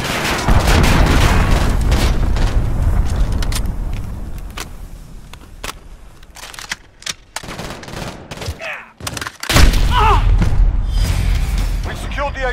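Cruise missile strikes in Call of Duty: Modern Warfare's open beta bring loud booming explosions and bursts of gunfire across a chaotic battlefield, dense and close, with voices talking through the noise.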